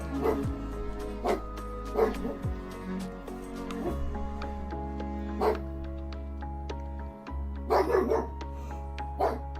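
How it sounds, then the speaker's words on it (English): A real dog barks indoors in several short bursts spread over the clip, fairly close and sharp against a steady low background hum, with quieter yips and whimpers between the barks. "Why is Daruk barking?"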